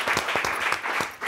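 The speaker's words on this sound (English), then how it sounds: "round of applause" Applause from an audience at a cooking demonstration and wine pairing, a steady wash of many hands clapping close by for just over a second, with a brief dip near the end before it swells again.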